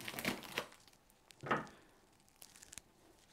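Brown packing tape crinkles and tears as a parcel is opened, with a few soft rustling bursts and a louder rip near the middle, close and fairly quiet.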